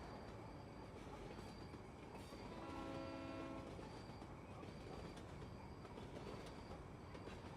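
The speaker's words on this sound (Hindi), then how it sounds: "जो ट्रेन जा रही 12 बजे की लोकल है" A local commuter train rolls past in a steady rumbling wash with rail clatter, a brief tonal squeal of wheels midway, and no voices.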